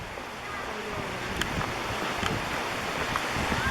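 Deep Creek waterfall pours straight into a river, a steady broadband rush of falling water with wind buffeting the microphone and a few faint clicks.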